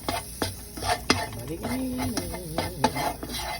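Chopped mango and ginger frying in a skillet over medium heat, a soft sizzle broken by repeated stirring scrapes and clinks of a utensil against the pan, close by and without speech.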